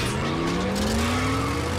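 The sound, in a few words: Transformers robots in vehicle mode revving and driving off, cartoon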